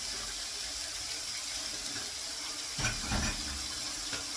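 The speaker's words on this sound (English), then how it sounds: "I'm recycling and washing dishes" Tap water runs steadily into a kitchen sink while dishes are washed, a constant hiss with a few brief clinks and splashes near the end, no talking.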